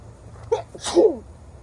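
A single close sneeze, a quick sharp intake followed by an explosive burst, alone against a quiet background.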